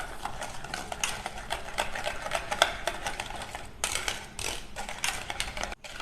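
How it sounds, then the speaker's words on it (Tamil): Sugar is whisked into a butter and curd batter for an eggless fruit and nut cake, with rapid, steady clicking and scraping of the whisk against the bowl close up, running continuously with brief pauses. "இப்போ இதையும் சேர்த்து நல்லா ஒரு விஸ்க வச்சு இந்த மாதிரி கலந்து விட்டுக்கலாம்."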